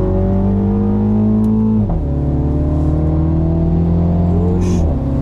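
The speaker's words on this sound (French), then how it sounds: "droite, on accélère progressivement" A BMW car accelerates hard on a wet racetrack, its engine note climbing steadily in pitch through the gears with a brief dip at a shift, loud and close throughout.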